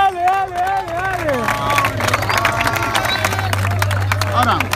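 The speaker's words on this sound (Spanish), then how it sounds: "¡Aplauso, gente!" Audience clapping and cheering at a rap battle, a dense crowd patter under a loud voice shouting over it from the stage.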